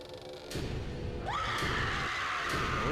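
A Valak Halloween animatronic plays its scream action, a harsh, rising electronic shriek that sustains loudly over mechanical thumps and background noise.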